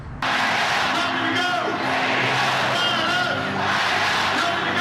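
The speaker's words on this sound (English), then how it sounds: "The crowd obviously very excited, waiting to hear from their candidate." Excited crowd cheering and shouting at a political campaign rally awaiting their candidate, a loud sustained roar of voices with whoops rising over it.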